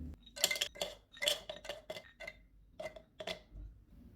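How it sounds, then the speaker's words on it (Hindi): Soaked, peeled cashews and almonds dropped into a blender jug, a series of light clinks and taps against the jug over a few seconds, close and quiet. "जग में काजू और बादाम डालेंगे"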